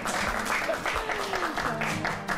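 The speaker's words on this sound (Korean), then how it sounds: "우리 수고해주신 김남준 목사님께 다시 한번 박수 드릴까요?" An audience at a Korean book-reading programme applauds a pastor, a short burst of clapping mixed with voiced sounds that rise and fall over about two seconds.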